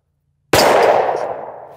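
A single loud, close 9mm pistol shot using Atomic 124-grain +P ammunition fired through a Tyrant Designs Uni-Comp compensator, a sharp crack following silence and trailing into a decaying ring.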